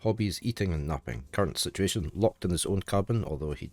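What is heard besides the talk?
None of the usual background noises is heard.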